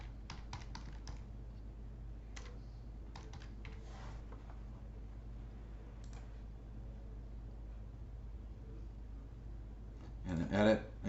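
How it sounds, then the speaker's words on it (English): Someone types on a computer keyboard in bursts of quick clicking keystrokes, close by and fairly quiet, with pauses between runs and a louder flurry of keys near the end over a low steady hum. "I'm just typing here."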